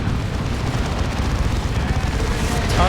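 Lascannons firing in a Dawn of War 2 Space Marines versus Chaos Space Marines match, a dense continuous barrage of booming blasts and battle noise at steady loud level with a brighter whoosh near the end.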